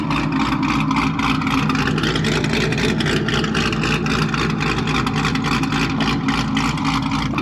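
A car engine idles while warming up, a close, steady rumbling drone with a faint pulsing rhythm throughout.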